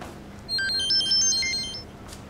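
A telephone rings with a short electronic melody of warbling tones, heard once at moderate volume over a quiet room hum.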